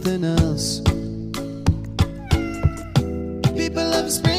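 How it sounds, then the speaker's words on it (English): A cat meows in a series of short, evenly spaced cries over a bed of music, with each meow clear and close. "They're eating the cats. Meow, meow, meow, meow."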